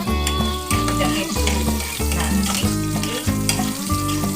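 Curry leaves, dried chilli and asafoetida sizzle loudly in hot oil, the steady crackling fry broken by rhythmic scraping strokes of a stirring spoon about every half second, close and continuous with no talking.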